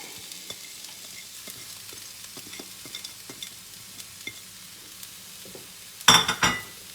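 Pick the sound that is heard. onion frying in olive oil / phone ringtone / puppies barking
onion frying in olive oil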